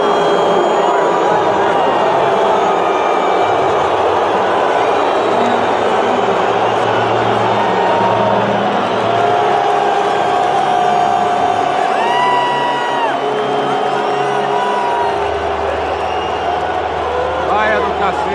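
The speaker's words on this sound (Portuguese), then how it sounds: "É muita gente ali dando vaia pro Bolsonaro" A huge stadium crowd at the Maracanã roars and jeers at Bolsonaro, a loud sustained wall of voices with rising whistles and shouts, dense and continuous throughout.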